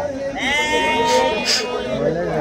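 A sheep bleats loudly and close by at an outdoor sheep market, one wavering cry with a second call, while people talk in the background.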